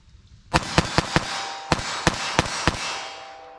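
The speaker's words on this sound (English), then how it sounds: "Here's our 22 long rifle. Let's see what this does." A .22 LR pistol firing CCI Blazer target ammunition outdoors, nine sharp cracks in an uneven string, the first four quick, a short pause, then five more spaced shots, each ringing out into a fading tail.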